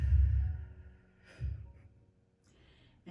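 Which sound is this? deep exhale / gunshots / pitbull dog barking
deep exhale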